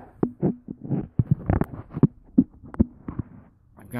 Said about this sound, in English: when you ride you can kind of hear a steady broom, broom as you go down the road